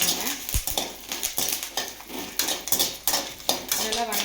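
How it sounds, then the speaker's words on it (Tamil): Dried red chillies and curry leaves sauté in hot oil in a pan for a fish fry masala, with a spoon scraping and clinking against the metal in an irregular rhythm over a steady background hiss. "மிளகாயும் கருவேப்பிலையும் மட்டும் எண்ணெயில் வணக்கிக்கோங்க."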